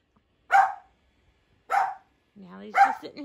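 A household dog barks in three short excited bursts at home, close and loud, with a brief whimpering yip before the last bark.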